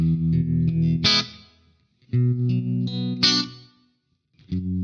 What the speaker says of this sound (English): Let's bring in the room sound for some ambience.